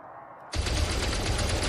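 Spaceship weapons firing at sentinels in the space game Elite Dangerous: a sustained, dense rapid-fire stream starts abruptly after a quiet hum and continues steadily at high volume, with no voices.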